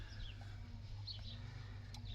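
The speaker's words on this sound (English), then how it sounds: "Birds are fighting around." Small birds squabble outdoors with faint, scattered high chirps and squeaks, heard over a steady low rumbling hum.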